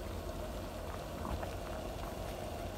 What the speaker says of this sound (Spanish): Ahí está hirviendo.